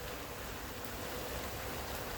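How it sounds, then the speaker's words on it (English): Heavy rain pours steadily outside, a dense continuous hiss of drops striking surfaces with no pauses and no voices. "it's raining goddamn hard"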